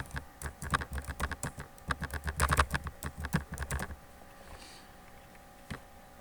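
Keys on a computer keyboard clack in a quick run of close taps, then slow to a few isolated presses with quiet gaps, no talking.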